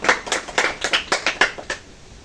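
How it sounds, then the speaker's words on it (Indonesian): Classroom applause for a student comes as a short run of about eight or nine distinct, fairly close hand claps in a loose rhythm, fading out after two seconds. "Kita berikan tepuk tangan untuk adik Melia."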